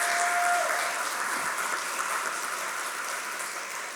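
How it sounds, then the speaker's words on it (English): A business-panel audience in Weslaco applauds a guest, a steady wash of many hands clapping that holds evenly for several seconds at moderate loudness with no talk over it. "Please welcome him with a round of applause"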